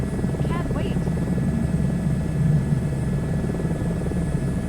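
A helicopter in Microsoft Flight Simulator 2024 makes a steady low rotor and engine drone that fills the whole stretch, loud and constant, while a voice talks over it.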